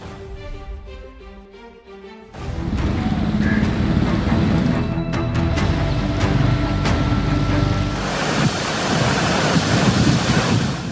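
Heavy rain pours down over Karachi streets with floodwater, a dense, steady roar of downpour and wind that swells louder in the final seconds, with no voices.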